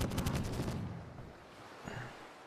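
A quick burst of rapid gunfire from the pirate video game Caribbean!, several fast shots in the first moment, then fading into a low rumbling tail with a faint later thump.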